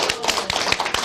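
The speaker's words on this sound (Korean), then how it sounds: "박수 좀 쳐주시고요." Audience clapping at a Korean humanities and speech talk show, a short burst of sharp, uneven hand claps close by.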